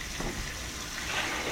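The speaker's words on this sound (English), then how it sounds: "filling it with hot water" Hot water gushes from a tap into a gallon jug, a steady close rushing splash that holds at an even level throughout with a slight swelling near the end, no talking over it.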